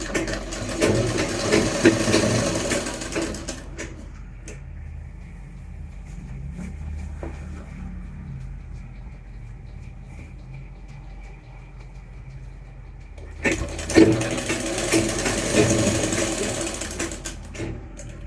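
A sewing machine stitches a lined kurta, running in two steady mechanical bursts at the start and end with a quieter pause between them.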